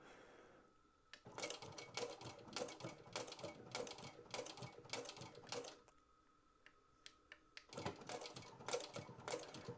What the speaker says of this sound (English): And then we just kick straight back into forward sewing, holding that button.